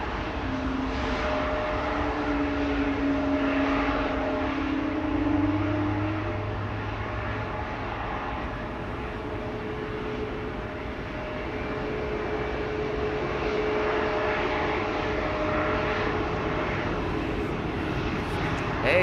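A Ryanair Boeing 737 Max 8 departing Amsterdam Schiphol for Malaga gives a steady, moderately distant jet engine roar that stays fairly even throughout, with some low vehicle and airport background noise.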